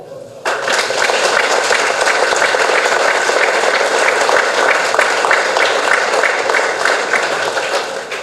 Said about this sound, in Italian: con un applauso